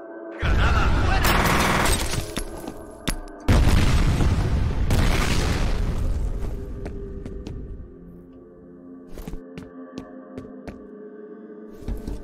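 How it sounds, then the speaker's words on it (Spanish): Grenade blasts in the shooter game F.E.A.R., with deep booming explosions, bursts of gunfire and debris crackle, loud and close, then fading into sharp scattered cracks and a lingering mechanical hum. "¡Agáchate! ¡Granada, fuera!"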